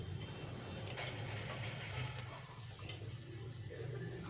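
Oats appe frying until crisp in an appe pan, giving a steady, continuous sizzle with faint scraping and clicking of a utensil near the pan throughout.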